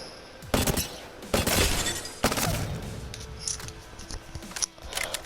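SMG gunfire in Apex Legends comes in several short, sharp bursts of rapid shots over quieter game ambience, some bursts louder and closer than others, with no voices.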